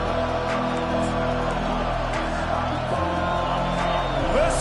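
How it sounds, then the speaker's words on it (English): A football stadium crowd roars to help the defense: a dense, continuous wall of cheering and shouting that holds at a steady loud level. "Listen to this crowd just shaking the girders of this place, trying to help their defense"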